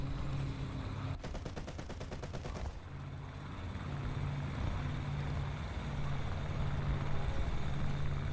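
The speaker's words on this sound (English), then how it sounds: "Yeah, the PBJ is a nice plane." PBJ propeller bomber in War Thunder: a steady propeller engine drone runs throughout, with a short burst of rapid machine-gun fire near the start.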